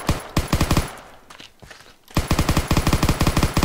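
Rapid automatic gunfire in a video game, bursts of loud close shots in a fast even rhythm, a brief pause with scattered single shots, then another sustained burst.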